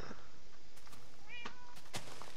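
A cat meowing in the Minecraft-based game Tekkit, with a couple of short, clear meows over a quiet background, the second slightly louder.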